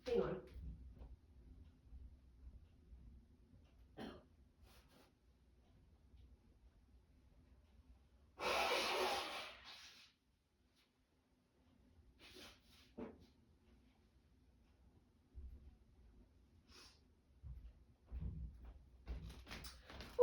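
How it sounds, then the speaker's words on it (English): A person blows their nose after sneezing, one loud, breathy honk lasting about a second and a half amid quiet rustles and small handling noises. "I need to blow my nose because I sneezed."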